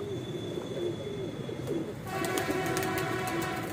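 Sialkoti and Kansani pigeons coo in a steady low murmur that runs throughout, with a broadband rushing noise growing louder in the second half.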